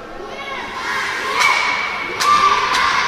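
Spectators at a youth ice hockey game in the Moscow championship shout and yell during a penalty shot, a steady, loud wash of young voices with a few sharp thuds cutting through.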